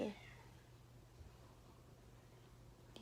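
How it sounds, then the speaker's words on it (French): Agitated house cats give brief meows at the start and again at the end, faint over a steady low hum. "les chats, ils s'énervent."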